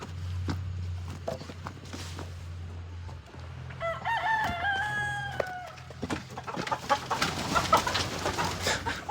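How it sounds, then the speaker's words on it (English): Several roosters crow in a yard, one long cock-a-doodle-doo ringing out clearly at moderate distance amid clucking hens and other birds, with scattered rustling and no speech. "Those are all roosters."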